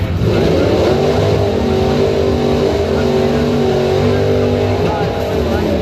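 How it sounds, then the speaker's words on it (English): Drag race cars roar off the line at a strip on a rainy day, a loud, sustained engine drone that holds steady at full volume throughout. "We got some drag races going on."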